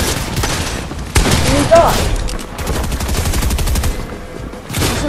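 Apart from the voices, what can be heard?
gunshots in a video game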